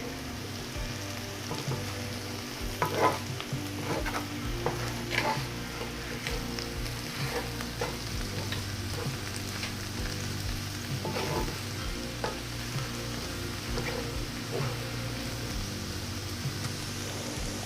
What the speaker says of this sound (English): So let's stir it, the final stir.